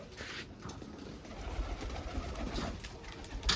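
Pigeons coo softly at a loft where birds are being fed, their low murmuring calls repeating over a steady background hiss, fairly faint and with no voices.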